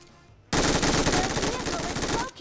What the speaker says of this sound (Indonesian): Gue tembak aja deh.